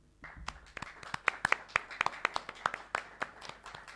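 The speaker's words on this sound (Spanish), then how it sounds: "un aplauso otra vez para ACE y para la carrera de Historia" Sparse, scattered handclaps from a small audience at a presentation of the ACE project results for the History degree programme. Distinct individual claps ring out near and crisp, thinning toward the end.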